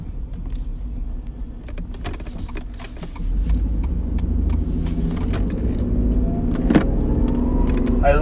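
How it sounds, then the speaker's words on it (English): A car passes close by on a road during a near crash. A low engine rumble swells suddenly partway through and then holds loud, with a few clicks and thumps over it. "I literally almost got in a car crash."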